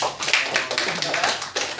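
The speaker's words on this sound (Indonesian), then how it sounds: "Beri tepuk tangan dong" A classroom of students claps together in a quick, ragged burst of overlapping hand claps at moderate loudness, with speech mixed in.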